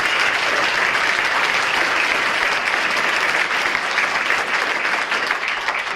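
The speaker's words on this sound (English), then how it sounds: "does need a last round of applause" Audience applause at a high school athletic hall of fame ceremony, a loud sustained roar of many hands clapping together in a large room, steady from start to finish.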